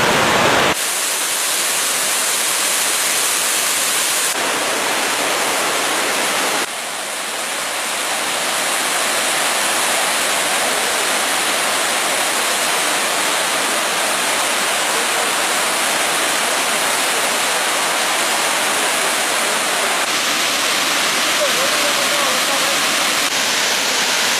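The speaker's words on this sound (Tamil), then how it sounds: "இந்த இருந்து அஞ்சு அருவி உற்பத்தி ஆகி கீழே அருவி வருது" A Tamil Nadu waterfall fed by monsoon-season flow pours in a dense, loud, continuous roar of rushing water, steady and close for the whole span, with no pauses.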